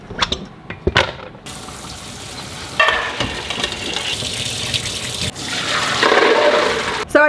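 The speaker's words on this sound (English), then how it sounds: "I'm going to get the beans rinsed and cooking" Dried beans for chili are rinsed under a running kitchen tap: a few sharp clanks and knocks open the sequence, then a steady rush of water fills the rest, swelling louder toward the end, with no voices.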